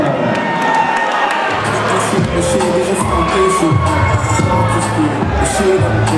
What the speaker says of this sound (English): have a noise for Cameron